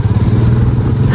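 A father's motorbike engine putters in a quick, steady pulsing throb, close and fairly loud, with no talk over it.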